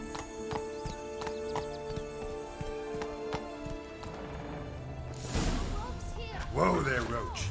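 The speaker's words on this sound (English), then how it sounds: "Whoa there, Roach" Horse hooves clip-clop in a steady gallop in The Witcher 3: Blood and Wine, under continuous game music, with a brief neigh near the end.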